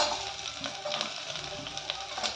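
Chopped onion sautéing in a hot pan for a barley and mixed vegetable soup, a steady close sizzle with faint crackles throughout.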